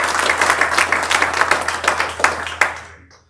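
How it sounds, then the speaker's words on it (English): An audience at a sustainable infrastructure breakfast claps for a panel, brisk and loud at first, then thinning to scattered claps before fading to silence. "Let's give our panel a round of applause."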